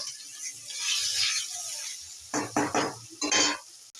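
Tomato and chilli powder cooking in a pan, with a soft sizzle and stirring at first, then several short, sharp bursts of hissing sputter as a little water is added, each one close and fairly loud.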